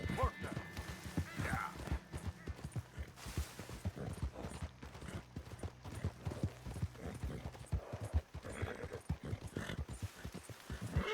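Horse hooves clip-clop in a steady rapid rhythm while riding in Red Dead Redemption 2, close and continuous, with a low engine-like hum and a voice speaking in places.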